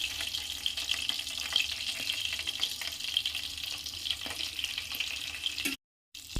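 Whole spices and green chillies fry in oil in a pan with a steady, moderately loud sizzle and light crackle, cutting out briefly near the end, without speech.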